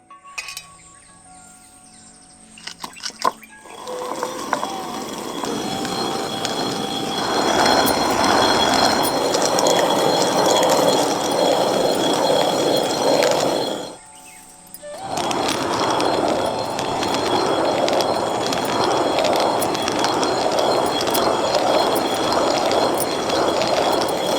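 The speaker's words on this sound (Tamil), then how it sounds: "ராகி இப்ப கல்லுல போட்டு நல்லா அரைக்க ஆரம்பிச்சிடலாம்." Soaked finger millet ground on a stone grinder in a village kitchen gives a continuous rough, rattling churn that runs loud and steady, breaks off briefly, then resumes.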